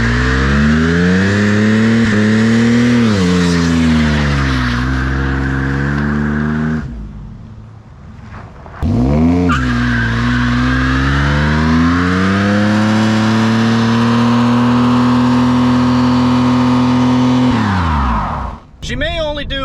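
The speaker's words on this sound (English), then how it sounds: "She may only do a one-wheel peel, but it is a fun one-wheel peel." A V6 Dakota pickup with a poorly built transmission revving hard and accelerating through a one-wheel peel, loud and close, engine pitch climbing through gears, a brief lift and drop, then another long sustained pull.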